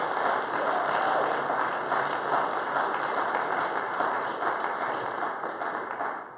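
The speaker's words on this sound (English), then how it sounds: "Round of applause." A church congregation applauds, a steady, even wash of clapping heard at moderate distance that holds for several seconds and tapers slightly at the end.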